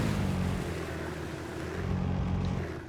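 The engine of a video-game assault boat, an inflatable rubber dinghy, runs loud and close in a steady droning roar with a low hum that never changes.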